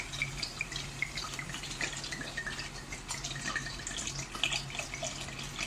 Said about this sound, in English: I am adding water in the masala.